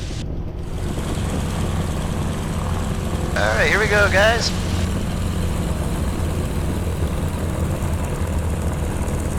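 A North American T6 propeller aircraft engine drones steadily and loudly at low power while taxiing, with a short spoken phrase and a brief radio-like burst over it.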